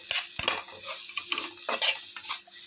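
Carrots being stirred with coriander powder in a pan, a spoon scraping and clacking in quick irregular strokes over a light sizzle, close and fairly loud, with no talk.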